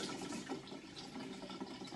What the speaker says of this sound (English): you can only run cold water through this machine